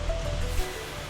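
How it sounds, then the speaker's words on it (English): Surf breaking on the sea at Bamburgh beach on a summer heat-wave day, with spray blowing off the water; a steady, close, broadband wash of waves that holds throughout with no voices. "there's actually some spray coming off the sea"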